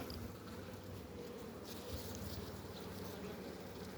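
Honeybees buzz in a dense, continuous hum at an open hive outdoors, soft and steady throughout with a light rustle of movement.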